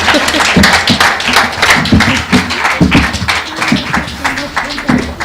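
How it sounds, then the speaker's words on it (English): An audience at a women's forum in Africa claps for itself, loud dense applause filling the room throughout, with voices mixed into the clapping. "So I want us to clap for ourselves"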